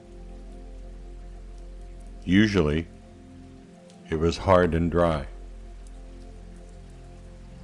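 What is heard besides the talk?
rain falling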